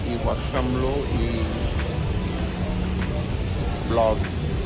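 Steady rain pours outdoors during a city photo shoot, a dense even hiss throughout with a person talking over it.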